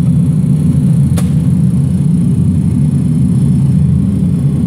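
Pratt & Whitney JT8D jet engines on a DC-9 in a flight simulator game hum as a steady, loud low rumble throughout final approach, with one brief sharp click near the start.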